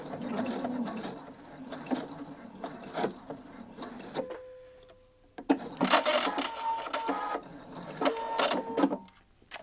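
A sewing machine stitches back over a bound buttonhole to secure it, running in steady close mechanical bursts with short pauses.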